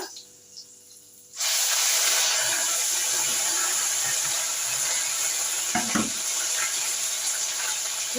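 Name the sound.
ginger added to fried cumin, sizzling in oil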